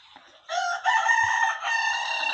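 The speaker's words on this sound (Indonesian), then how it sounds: "suara ayam di dalam rumah ini" A rooster crows loudly and close by inside a village house, one long drawn-out call with a brief break partway through, alone with no talk.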